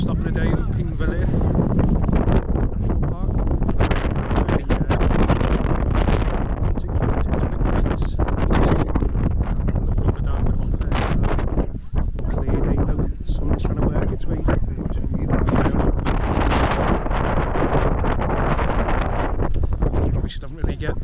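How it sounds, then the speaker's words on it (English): Strong, constant wind buffets the microphone across open lava fields in Iceland, a loud broadband roar with gusty fluctuations throughout. "windy."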